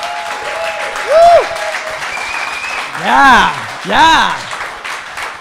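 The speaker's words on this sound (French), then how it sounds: "applaudissez Fred Saint-Gelais ici qui l'a fait." Live audience at a recorded podcast show in Trois-Rivières applauding loudly, with bursts of whooping and cheering voices rising over the steady clapping.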